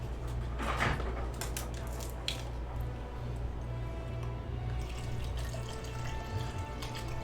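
Water from a tap runs steadily into a cup for mixing a Gfuel drink, a continuous close splashing stream with a faint low hum underneath and a few small clicks.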